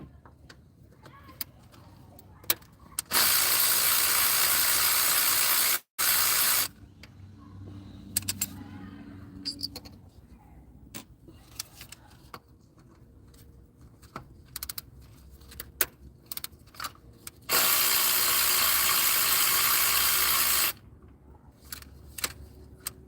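Ratchet clicks and metallic tool handling on a Nissan 3.5 V6 come in short irregular bursts while the coil bolts are loosened, broken by two long loud stretches of broadband noise, otherwise fairly quiet.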